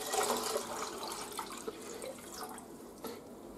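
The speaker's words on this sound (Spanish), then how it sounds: "Lo primero que tenemos que echar en la cacerola, 2 litros y medio de agua." Two and a half litres of water pour into a saucepan for pasta salad, a steady close splashing and gurgling stream that slowly settles, with no talking.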